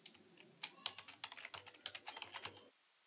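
Quick run of keystrokes on a computer keyboard while a name is typed into an input box of a PHP Bootstrap form, close and fairly quiet, with irregular clicky taps for about two and a half seconds and no talking.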